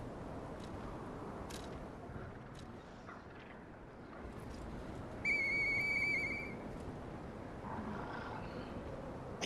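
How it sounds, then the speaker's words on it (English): A whistle blown in the video game Lies of P gives a single sustained, clear whistle tone lasting about a second midway, over a constant low rumbling game ambience, with no talking. "Do you think the whistle can be used?"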